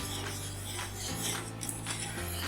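Milk being stirred into melted butter in a bowl for pizza dough, giving soft, continuous scraping and light clinking of a utensil against the bowl, close and fairly quiet, with a low steady hum underneath.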